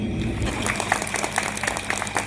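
An audience at a school event at Garden Hills Public School in Mankulam, Idukki, claps in a quick, steady rhythm of evenly spaced beats over a constant background drone, with faint voices mixed in.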